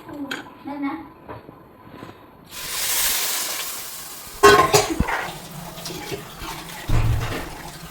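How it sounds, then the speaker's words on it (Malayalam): Kudampuli tamarind water is poured into a pan of well-fried masala for a sardine curry, giving a sudden rushing hiss and sizzle with clinks, while a person talks around it. "പുളിവെള്ളം അങ്ങ് ഒഴിക്കും."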